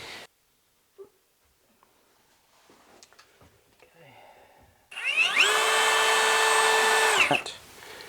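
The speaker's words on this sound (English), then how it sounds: "It looks like I might want to actually pre-drill these." A power drill pre-drills holes in an IKEA closet cabinet, a loud whirring burst that spins up, holds for about two seconds and winds down, after a quiet stretch with faint handling noises.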